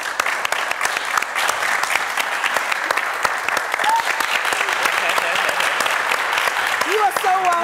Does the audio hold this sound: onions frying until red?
no